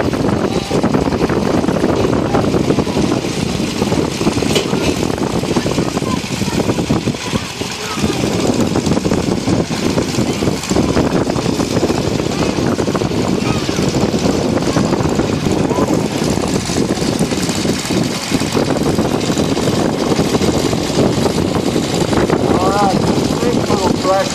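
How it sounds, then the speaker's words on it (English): A 1948 Gibson Model D garden tractor runs steadily and loudly at close range during a power parade, a continuous engine drone with other machinery mixed in and a voice talking over it. "right behind him is going to be a 1948 Gibson Model D"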